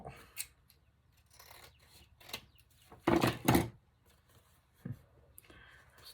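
Scissors snip through journal paper in a burst of crisp cuts around the middle, with a few lighter handling rustles and taps before and after.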